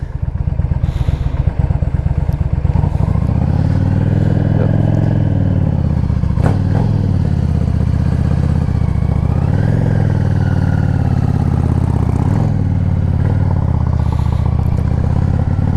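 2005 Yamaha V Star 650 motorcycle riding along, its engine rumbling loud and close with steady low throb and slight rises and falls in pitch as the rider changes speed.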